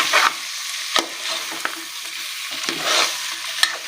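Curry of ridge gourd with turmeric being stirred in a cooker pan, spoon scrapes and clacks at irregular intervals over a steady soft sizzle, close and fairly loud, no voices.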